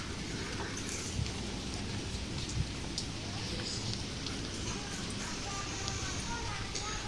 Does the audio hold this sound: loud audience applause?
no